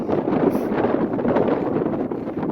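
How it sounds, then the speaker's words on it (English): Strong gusts of wind roar and buffet against the microphone in a continuous, rumbling rush on the Mount Evans summit ridge above Upper Chicago Lake, Colorado, with no talking. "And it's very windy pretty windy up here."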